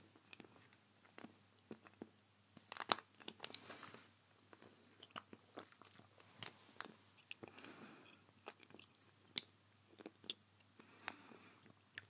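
Soft, close chewing of a chewy strawberry candy, with faint sticky bites and smacks in an irregular rhythm over a quiet background.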